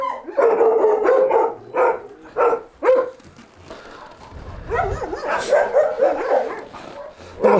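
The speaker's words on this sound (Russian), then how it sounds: "Восточно-сибирская лайка" Eight-year-old East Siberian Laika dogs, moose and bear hunting stock at a hunting-Laika kennel, bark in a string of loud, close yaps, first in separate bursts, then in a denser overlapping volley near the end.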